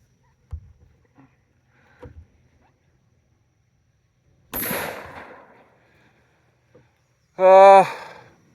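An H&R Topper M48 single-shot shotgun fires one loud blast outdoors that decays quickly, preceded by faint handling knocks and followed by a short voiced sound.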